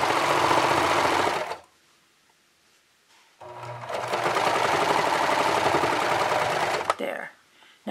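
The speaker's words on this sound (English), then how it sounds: "And I'm going to continue stitching, and I'm going to stitch" A serger stitching quilt binding runs in a fast, steady mechanical whir for over a second, pauses, then runs again for several seconds before stopping with a small clunk.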